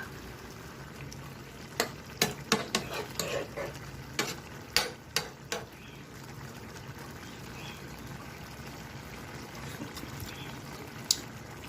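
Winged beans simmer in coconut milk in a home Filipino kitchen, with a steady bubbling boil broken by a quick series of sharp spoon-stirring clinks and scrapes, then quieter simmering.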